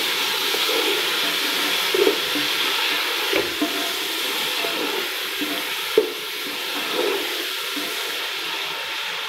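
Aloo gobi with freshly added tomatoes and green chillies sizzles in a pan while being stirred, with a continuous frying hiss broken by several soft spoon scrapes and knocks, and no voices.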